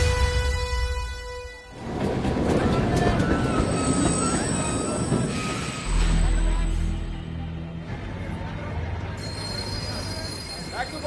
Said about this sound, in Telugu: అదేంటి ట్రైన్ వెనక్కెళ్తుందండి?